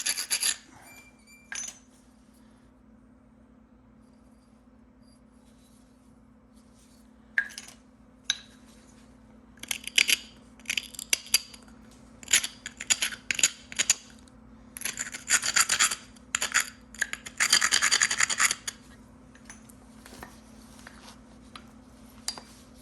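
Root beer chert being knapped, with scraping and rubbing strokes and scattered sharp clicks of stone on stone. Quiet at first, then denser bursts toward the end over a faint steady hum.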